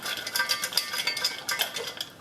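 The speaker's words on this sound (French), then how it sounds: "Faut remuer la poêle." Hazelnuts are stirred in a frying pan, rattling and scraping against the metal in quick, steady, close strokes with no talking.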